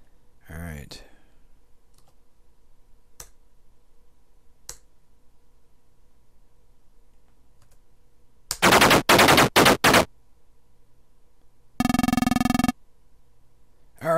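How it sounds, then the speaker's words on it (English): Tank coaxial machine gun bursts in the game Armoured Commander: two short loud rapid-fire bursts, after scattered faint clicks, with a speaker talking. "Alright, we took them out with our machine gun."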